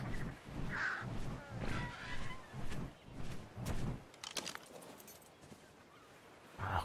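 A bird in ARK: Survival Evolved gives a few rough, rhythmic caws over soft game ambience, fairly quiet, then fades into faint clicks and footsteps.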